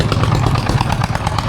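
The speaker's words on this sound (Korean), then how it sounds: "그냥 오토바이 탔습니다" Motorbike engine running steadily up close on a ride in Myanmar, a continuous buzzing drone with pulsing throttle fluctuations and no voices.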